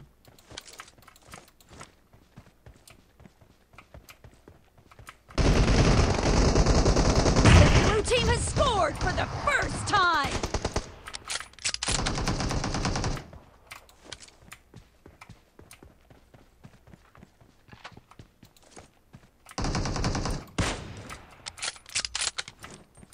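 Gunfire in the mobile game PUBG Mobile during a team match, with loud bursts of rapid shots in two main stretches separated by quieter gaps and faint ticks.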